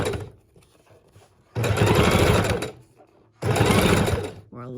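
A sewing machine runs a straight stitch across a junk journal pocket in two loud bursts of rapid, whirring needle strokes, each about a second long, separated by near-silence and a faint handling sound.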